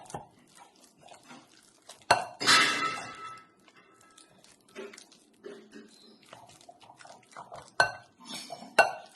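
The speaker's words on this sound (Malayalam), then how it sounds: "ഇത് നല്ലോണം എല്ലാം ഇതൊന്ന് ഉടച്ചെടുക്കാം." Ripe Kathali bananas are mashed in a pot with a utensil, giving irregular soft squishes broken by a few sharp metal clinks and scrapes, close and fairly quiet with no talking.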